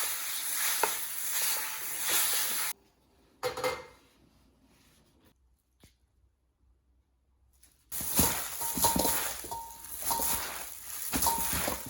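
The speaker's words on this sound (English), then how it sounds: "Fry this noodle for 2 minutes." Glass noodles for Korean japchae frying in a hot pan, a close hiss and sizzle with scraping stirs that cuts to near silence midway, apart from a brief burst, then resumes loud with more stirring.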